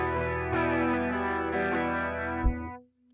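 An electric guitar played through a Quad Cortex with a bright, jangly distorted tone, one sustained strummed chord ringing with chorus shimmer before a final stroke and a quick cutoff into silence.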